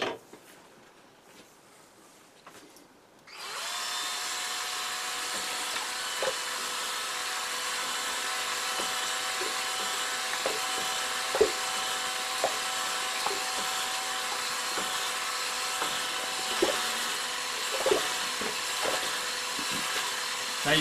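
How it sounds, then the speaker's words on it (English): A cordless drill with a Jiffy mixer whines into motion after a quiet moment and runs steadily at high speed mixing ceramic slip, with small knocks and rattles as it churns. "a cordless drill with a Jiffy mixer works very well"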